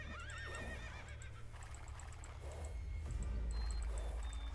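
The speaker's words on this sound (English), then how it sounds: "Gonna make some more light cavalries in the meantime" Light cavalry horses in the strategy game Age of Empires 2 whinny repeatedly with some hoof clatter, fairly close, over game music and ambient battle noise, with no talking.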